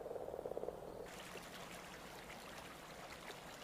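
Frogs croak at a pond in spring, a quick run of rhythmic croaks at the start that fades into a steady trickle of water, faint and close.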